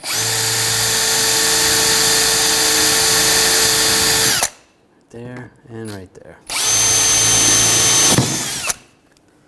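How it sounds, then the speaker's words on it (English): A power drill with a 9/32-inch bit whines steadily for several seconds drilling holes in a 2007-2013 BMW 328i's front inner fender area, stops for brief speech, then runs again in a second long burst before cutting off. "And then using a 9/32 drill, we'll just drill the holes."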